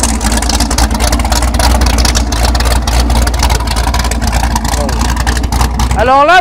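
A V8-swapped Mini with its exhaust exiting through the front bumper rumbles loudly and steadily at close range, rising into rev sweeps near the end, while someone talks over it throughout.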